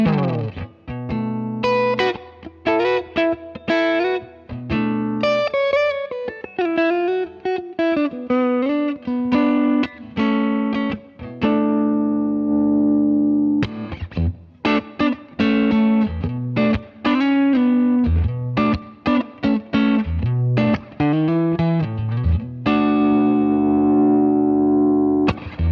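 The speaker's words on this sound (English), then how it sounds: "keep the dry signal off so that way we just hear compression, compression, compression" An electric guitar runs through an Origin Effects Cali 76 compressor pedal with the dry signal off, playing a loud, sustained, evenly squashed run of chords and single notes. There is a short pause near the middle and no talking.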